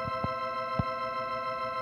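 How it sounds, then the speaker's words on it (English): A Hammond 2195 Concorde organ holds a sustained chord through its upper Leslie speaker chorus, a steady shimmering tone with a couple of soft low thumps underneath, faint and close. "The Leslie chorus here."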